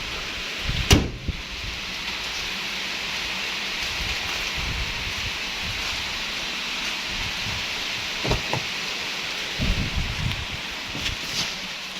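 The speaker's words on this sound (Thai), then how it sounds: "ฝนตกได้ขอปิด ฝา กระโปรงรถก่อน" Steady rain hisses outdoors around a Mazda 2 Skyactiv with its hood open, constant and fairly loud, with a sharp thump near the start and a few softer knocks later.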